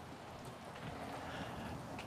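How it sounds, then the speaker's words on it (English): Steady rain falling outdoors at night, a soft, even hiss heard faintly from indoors with no other distinct sounds. "By the way, it's raining outside tonight."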